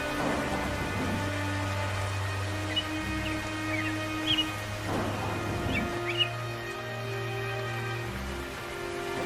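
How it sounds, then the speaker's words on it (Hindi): Steady rain falling in an animated cartoon scene, a soft continuous hiss with a low tonal drone beneath and a few faint bird-like chirps, no speech. "बारिश भी शुरू हो चुकी थी"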